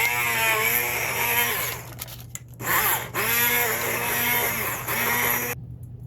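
Electric hand mixer blending banana bread batter as flour is added, a steady motorized whir with its pitch dropping and rising as it works the mix, interrupted by a couple of brief pauses, then cutting off near the end.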